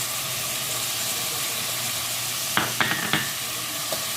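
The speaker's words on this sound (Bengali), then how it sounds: "দিয়ে ভালো করে কষিয়ে নেব" Ground spices and ginger-garlic paste fry in a pan for chicken with okra, a steady close sizzle and hiss with a few sharp clinks and scrapes of stirring near the end and no talking.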